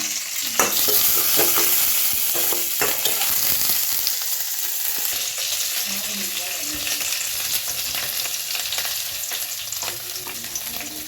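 A ground spice paste sizzles and fries in a hot pan with mustard seeds, dried red chillies and curry leaves, stirred with repeated scraping strokes over a steady loud crackle.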